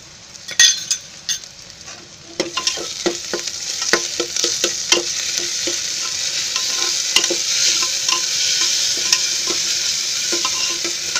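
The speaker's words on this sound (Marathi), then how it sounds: "आता त्याच्यामध्ये आहे ना हे मी अद्रक लसूणची पेस्ट टाकते" Ginger garlic paste frying with softened onions in a pan for a sprouted horse gram curry, with a steady sizzle and repeated clinks of a spoon stirring against the pan.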